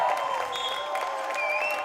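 At a high school girls' volleyball match, a crowd cheers and applauds in a sustained wash of noise that feels fairly close. Whistles or shouts cut through now and then as the noise swells around game point.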